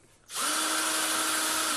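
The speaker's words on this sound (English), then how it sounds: "Drill right the way through" A power drill bores right through a flatpack kitchen door, starting abruptly and then running as one loud, steady high-pitched whine close up for the rest of the moment, with no talking.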